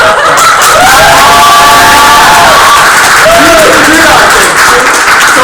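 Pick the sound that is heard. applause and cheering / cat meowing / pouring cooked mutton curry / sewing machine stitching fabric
applause and cheering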